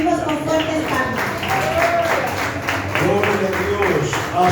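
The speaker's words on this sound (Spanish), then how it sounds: "Lo recibimos con fuertes palmas" A church congregation claps loudly in a steady rhythm, with the beats mixed under close voices that are speaking or singing.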